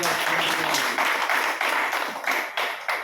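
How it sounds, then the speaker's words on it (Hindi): A seminar audience at an RCM Business talk breaks into a hearty round of clapping, a close, bright patter with several sharper bursts of claps rising and falling over a few seconds. "एक जोरदार ताली"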